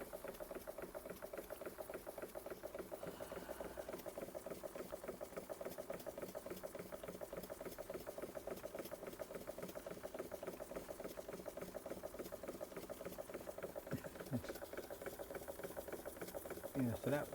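A Bing 130/382 poppet-valve model steam engine, lightly restored, runs steadily on its first run, giving a continuous rapid chuffing and rattling that stays even throughout, with quiet voices in the background.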